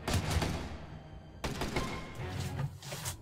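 Gunfire in the stealth game Mark of the Ninja, a few muffled bursts and thumping shots spread across the moment, moderately loud, with no speech over them.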